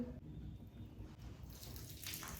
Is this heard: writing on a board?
no